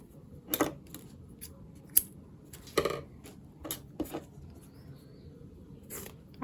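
Scissors snip through crochet yarn at the end of a tulip project, sounding as a few sharp, crisp clicks spaced irregularly, close and clear against a quiet background.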